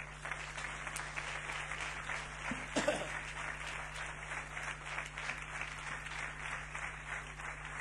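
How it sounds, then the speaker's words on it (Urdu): A church congregation applauds during a service, a faint, distant spatter of clapping with a steady hum underneath and a few louder knocks. "ہم ان کو بھی یسوع کے جلال کے لیے آپ کی تالیوں کی گونج کے ساتھ آج کی اس خدمت میں ویلکم کرتے ہیں"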